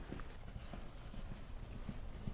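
Hooves clip-clop in a steady, even rhythm as a horse works in collection during a dressage session, the footfalls fairly close and moderately loud over a low background rumble.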